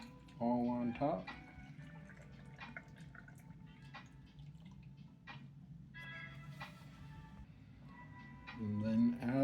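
Brine of pink Himalayan salt dissolved in water is poured from close by into a jar of chocolate habanero peppers for fermenting, giving soft trickling and dripping splashes. A person talks over it, with louder bursts at the start and end.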